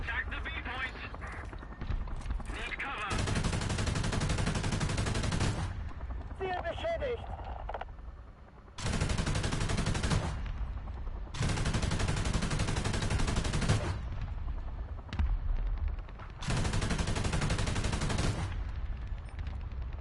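Tank cannon and machine-gun fire in the video game War Thunder: long loud bursts of sustained automatic fire, several seconds each, with short gaps between them, up close.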